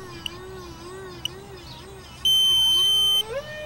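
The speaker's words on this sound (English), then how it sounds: "That's the timer." A timer's electronic alarm gives one loud, steady beep burst of about a second, sounding over the continuous hum of a small jet-wing motor, with faint clicks earlier.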